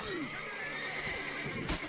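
Roach, Geralt's horse in The Witcher 3, gives a clear whinnying neigh up close, with faint hoof clatter and game sounds beneath.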